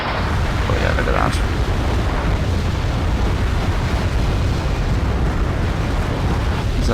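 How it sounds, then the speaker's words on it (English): Artillery barrage from Abbot self-propelled guns in Wargame Airland Battle, a loud rumbling wash of overlapping explosions rolling on continuously, with someone talking over the blasts. "It's been a short barrage."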